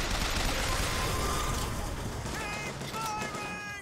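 Gunfire in the Bioshock Infinite video game, a dense continuous fusillade of shots at steady loudness throughout, with faint tonal game effects in the background.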